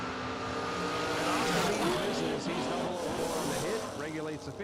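Drag race cars, including a Chevelle in the right lane, roar down a bracket racing strip at a Christmas event, a loud continuous engine drone with a track announcer's voice talking over it.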